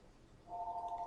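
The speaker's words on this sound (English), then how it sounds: "There, phone ringing." A phone ringing indoors starts halfway through, a steady electronic two-tone ring, fairly loud and close after a quiet room tone.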